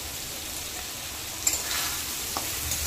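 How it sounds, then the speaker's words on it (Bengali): Tomato pieces fry with spices in a pan for kolai dal tadka, giving a soft continuous sizzle with a couple of small pops and stirring clicks. "মশলার সাথে টমেটোটাকেও ভালো করে কষে নেব।"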